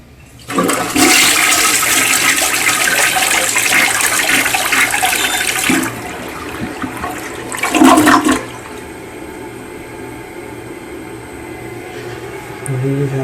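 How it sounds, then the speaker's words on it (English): A toilet flushes in a quick, loud rush of water lasting about five seconds, followed by a shorter gurgling surge before the tank quietly refills. "So I'm just gonna make a little quick flush."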